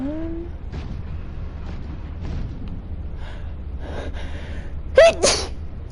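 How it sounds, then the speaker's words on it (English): A single human sneeze near the end, loud and abrupt with a brief breathy tail, rising over quiet game background sounds and faint low ambience. "The sneeze that finally decided it wanted to come out on stream."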